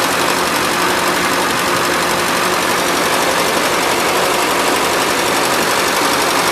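A 1977 Gravely GMT 900 garden tractor engine runs steadily at a fast, even idle, a loud, continuous mechanical drone with a faint knocking texture and no talking.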